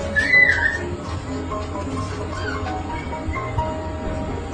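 A pet parrot whistles in short bright notes near the start, followed by quieter scattered chirps over a low background hum indoors.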